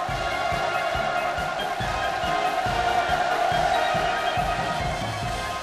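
A large crowd cheers and shouts in acclaim at a new street's opening ceremony in Pyongyang. The sustained roar stays dense and even from start to finish, with no single voice standing out.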